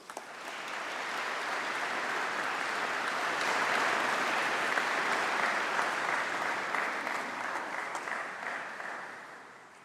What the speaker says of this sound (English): show your appreciation of a round of applause for your friends and family and supporters who've believed in you